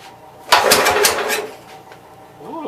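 A Wisconsin engine on a Master vibrator generator cranks and briefly catches, giving a sudden loud burst of clattering engine noise that fades within about a second, then a softer rumble returns near the end.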